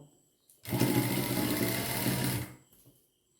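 A sewing machine stitches thick cotton fabric in one steady, loud burst of rapid whirring that lasts about two seconds, then stops, with no voices over it.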